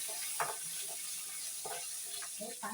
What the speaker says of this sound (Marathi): कढीपत्ता आणि मी चांगलं ढवळून घेते.